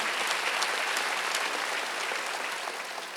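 Congregation in a Korean church at a Wednesday worship service breaking into sustained applause, a dense wash of many hands clapping steadily and fairly close, slowly easing off toward the end with no voices over it.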